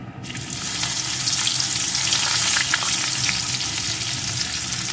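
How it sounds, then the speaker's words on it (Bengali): Chopped onion hits hot oil with whole cumin seeds, and a loud sizzle surges up almost at once before holding steady and bubbling close by. "এখন এটাকে একটু ভেজে নেব পেঁয়াজ কুচিটা ভালো করে ভেজে নিয়েছি"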